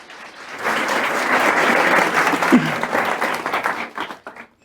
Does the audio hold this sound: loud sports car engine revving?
no